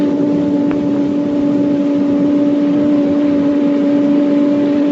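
Wind tunnel fan driving airflow up to about 100 miles per hour, a loud steady hum and broadband rush with fixed tones, continuous throughout with no speech.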